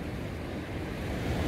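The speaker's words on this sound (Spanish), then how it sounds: "Me viene la ola." A sea wave crashes against a jetty during a heavy swell, a continuous loud rushing wash of surf with no voices.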